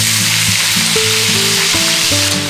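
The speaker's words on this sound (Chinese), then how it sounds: "还是土豆稍微煎一点。" Potatoes fry in oil in a worn non-stick pan that has started to stick, giving a steady, loud sizzle with no break, while a tonal melody plays underneath.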